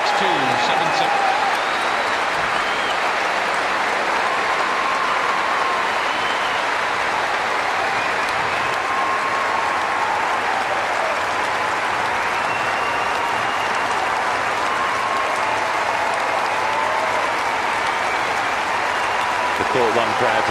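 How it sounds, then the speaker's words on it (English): Court One crowd at Wimbledon gives a sustained, dense ovation for Roger Federer's 2005 quarter-final win over Fernando González, steady applause and cheering filling the whole stretch at an even, loud level. "Court one crowd here rising to their feet to acclaim the defending champion Roger Federer."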